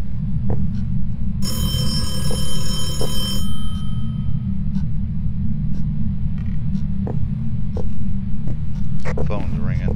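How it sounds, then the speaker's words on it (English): A telephone rings inside the ghost-hunting video game Phasmophobia, a bright repeating electronic ring lasting about two seconds over a constant low hum and rumble, with faint scattered clicks and noises afterward. "Phone's ringing."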